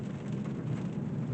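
Steady rain and road rumble inside a Volvo S60 driving along a gravel side road, a continuous dense wash with low engine and tyre drone, no voices.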